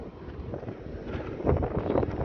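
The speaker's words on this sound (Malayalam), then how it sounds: "കാറ്റ് ഇങ്ങനെ തട്ടിക്കൊണ്ടിരിക്കുവാണ് കേട്ടോ" Gusty wind buffets the microphone in low, rumbling bursts while cycling, growing stronger toward the end, with no voices.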